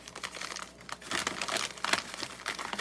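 A bag made from a basket is folded up by hand, giving close crinkling and rustling in irregular bursts that grow louder toward the middle, with no talking.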